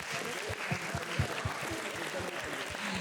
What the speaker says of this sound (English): Just give a big round of applause to all the women who are sitting here.